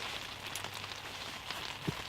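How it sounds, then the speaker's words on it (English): Soft, even patter of rain falling outdoors on snowy ground, faint and steady with scattered light drops and no voices. "As you can hear, probably it's raining."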